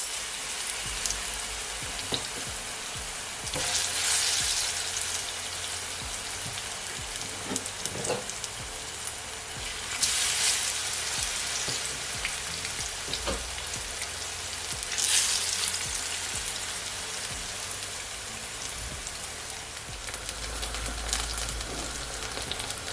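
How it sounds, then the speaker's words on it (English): Plantain frying in a pan, a steady close sizzle and crackle of hot oil with brief louder spits and pops now and then, running unbroken and alone. "I'm gonna fry my plantain for at least 3 minutes on each side"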